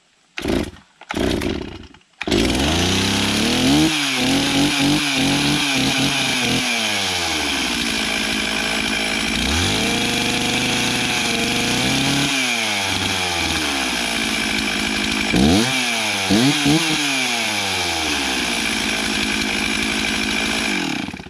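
A Stihl chainsaw fitted with a replacement Chinese carburetor, decompression release pushed and on choke, gives a few pulls, fires up and runs loud and close, its engine revving up and down repeatedly over a steady idle, with no talking.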